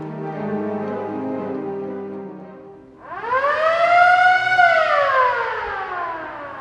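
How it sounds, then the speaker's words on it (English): A theater organ's circus siren effect winds up from a low reedy organ tone into a loud, bright rising wail that peaks and slowly glides back down, sounding alone and close. "There's a circus siren"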